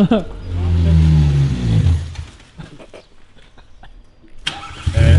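A barn-find VW Polo with a new tank and carburettor starts up and revs hard close by, the engine roaring for about two seconds and then dropping away, with people talking and some clatter afterward.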